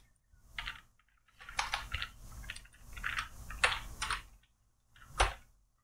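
Fingers tap on a computer keyboard in short uneven clusters of crisp keystrokes, close and fairly quiet, with brief pauses between bursts.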